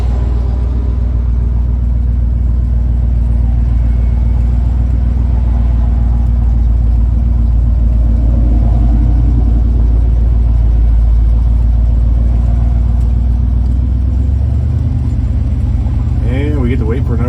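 A motorhome engine rumbles steadily from inside the cab while driving onto the interstate, with a loud, continuous low drone and a shift in tone near the end; a voice speaks over it.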